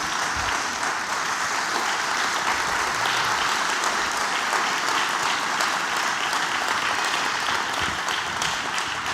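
A church congregation at a Sunday morning service applauds loudly and continuously, a dense, even wash of clapping from many hands lasting throughout with no break.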